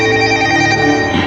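A telephone rings loudly and steadily with a bright, sustained electronic ring that fills the whole moment, close and alone with no talking over it.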